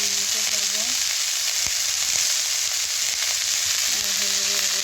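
Cabbage with fish head fries in a pan with a steady, loud sizzling hiss. A short tonal hum rises briefly near the start and again near the end.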